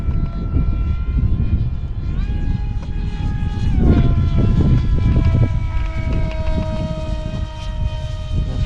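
An Astro Z 800mm RC pusher jet model airplane on a 4S battery flies on a windy day, its motor whining steadily with shifting pitch under heavy, constant wind rumble.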